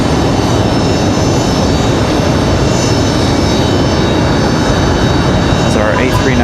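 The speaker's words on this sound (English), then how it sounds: "As our A319 gets out of here." An Airbus A319 airliner departing Raleigh-Durham International, its engines a loud, continuous, broadband roar close by, with a brief rising whine near the end.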